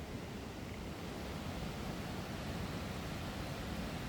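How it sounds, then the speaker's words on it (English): A big waterfall roars somewhere below a narrow trail section in Fiordland backcountry, a steady, dense rush of broadband noise holding at an even level for the whole stretch with no voices over it. "And down below us you can hear a big waterfall."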